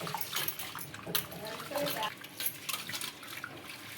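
Water sloshes and splashes in a container as rice is rinsed and swirled by hand, with occasional clinks, close up.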